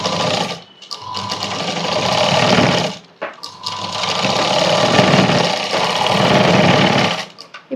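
A sewing machine stitches a cross-cut blouse in loud, close runs of rapid needle hammering, broken by brief pauses with fabric handling.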